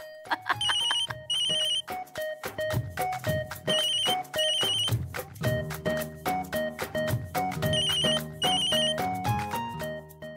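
A phone ringtone plays a repeating electronic melody, loud and close, cycling through several rings without pause.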